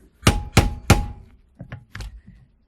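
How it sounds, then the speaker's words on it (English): Screwdriver pounded with hammer blows into magnetron copper clamped in a vise: three loud, evenly spaced metallic strikes, then a few lighter, quicker taps, close up with no talk. "I cut into it just deep enough to where I can pound the screwdriver in"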